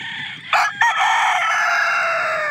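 A claret gamefowl rooster, dark red with a straight comb and yellow legs, crows once loudly and close by, the drawn-out call opening in two sharp bursts and then holding a long trailing note.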